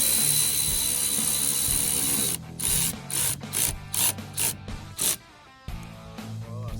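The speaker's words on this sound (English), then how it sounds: "I'll show you, we're bolting her in" A hand ratchet bolts a seatbelt anchor into the C-pillar sheet metal of a 2005 truck with a 6.0 engine, a run of quick clicking bursts, close and loud, then a pause before a last few clicks.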